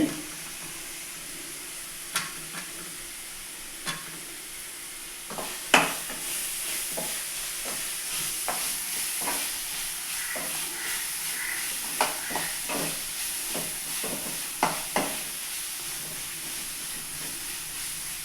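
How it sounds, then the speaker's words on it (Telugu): Slit green chillies sizzle in hot oil on a medium flame for chicken kurma, with a steady frying hiss and repeated clinks and scrapes of a stirring spoon throughout, close and alone with no talk. "స్టవ్ మీడియంలో పెట్టుకున్న తర్వాత ఈ పచ్చిమిరపకాయలు చీలికలు దాంట్లో వేస్తున్నామండి"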